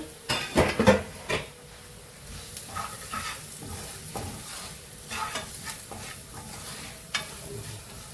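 Dried prawns fry with chilli powder, turmeric and salt for a Kerala-style dish, a light sizzle broken by sharp scrapes and clinks of a spoon stirring in the pan, with a burst of clatter near the start.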